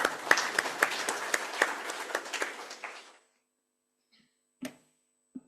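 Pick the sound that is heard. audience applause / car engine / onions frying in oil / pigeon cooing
audience applause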